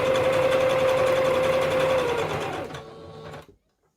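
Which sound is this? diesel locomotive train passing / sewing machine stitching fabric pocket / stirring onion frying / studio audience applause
sewing machine stitching fabric pocket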